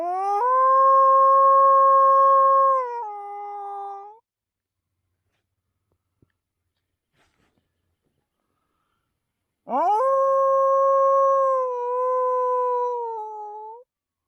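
A hunter's call imitating a wild dog: two long, loud, drawn-out howls with rising, bending pitch, each several seconds long and separated by a stretch of silence. A human voice is imitating the dog.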